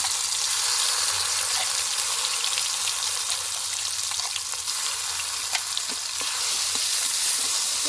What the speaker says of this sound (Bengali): মশলাটাকে ভালো মতো করে এটাকে কষিয়ে নেবো